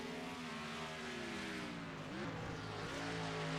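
Race cars on track during a qualifying session, a steady droning engine whine with shifting pitch from cars circling at speed, heard at a distance as a continuous blended roar.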